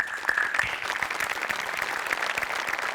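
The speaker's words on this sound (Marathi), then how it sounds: "तुझ्यासाठी खूप टाळ्या." Steady audience applause fills a comedy stage show in Maharashtra, dense clapping from a studio crowd carrying on evenly for the whole stretch with no voices over it.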